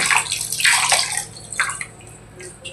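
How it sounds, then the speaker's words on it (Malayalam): Tamarind water splashes and trickles in uneven bursts into a tuna fish curry, close and fairly loud, like water being poured into a pot, with no voices. "കുറച്ച് പുളി വെള്ളത്തിലിട്ട് നമ്മൾ പിഴിഞ്ഞ് ഇതിലേക്ക് ചേർക്കാം"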